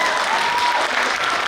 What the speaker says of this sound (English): It's like here having actual applause.